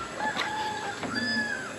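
Backyard farm poultry: a rooster crows loudly and close by while chickens cluck around it, the calls rising and falling in a short burst with no voices.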